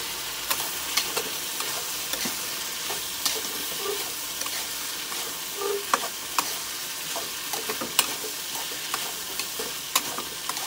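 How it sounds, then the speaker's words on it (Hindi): Potato bhujiya frying in a pan as it is stirred: a steady soft sizzle with scattered scraping clicks of the spatula against the pan, close and continuous with no talking. "सब्जी में चला लेते हैं।"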